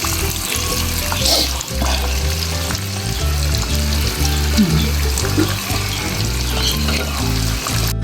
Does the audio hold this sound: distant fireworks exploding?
no